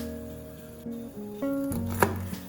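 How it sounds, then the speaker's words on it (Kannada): A knife taps repeatedly on a cutting board as Malabar spinach buds are chopped very finely, the strokes uneven in rhythm, close-up, over a faint sustained background tone. "ಓಕೆ, ಇದನ್ನ ತುಂಬ ಚಿಕ್ಕದಾಗಿ ಕಟ್ ಮಾಡ್ಕೊಬೇಕು."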